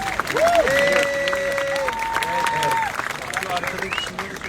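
An audience at a documentary screening applauds, with a steady wash of clapping that holds for several seconds while a voice speaks over it and other voices murmur in the crowd.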